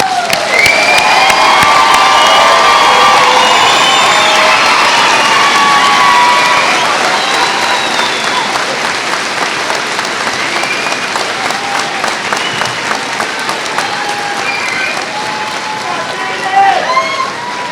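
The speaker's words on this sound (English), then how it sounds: "Give the DeKalb class of 2025 a round of applause." A large high school graduation crowd in DeKalb cheers and applauds the class of 2025, loud and dense at first with shrill whoops and shouts, then thinning into steadier clapping with scattered yells toward the end.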